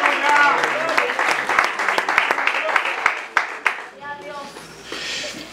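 Church congregation applause and clapping swell under a pastor's Spanish-speaking voice during a sermon, with scattered louder claps standing out before the sound thins out near the end.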